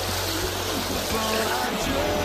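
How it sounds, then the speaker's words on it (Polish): A child blows bubbles into the water of a swimming pool in Gdańsk Stogi, producing a continuous gurgling, bubbling wash of water over a low hum of pool-hall background. "Bąbelki puszczam, skupiam się"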